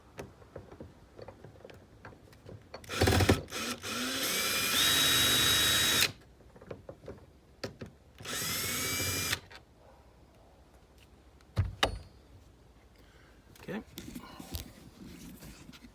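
A power drill runs to loosen a screw on a trolling motor mount on a jonboat bow, with two close, loud, sustained bursts of whirring separated by a pause. Clicks and handling knocks come between them.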